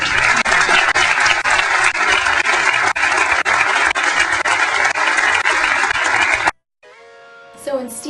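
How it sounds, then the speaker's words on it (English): Loud, dense crowd applause and cheering as Steve Jobs pulls the iPod from his pocket, sustained for several seconds before cutting off abruptly, followed by a short tonal passage. "when Steve Jobs pulled the iPod out of his pocket, the crowd just went wild"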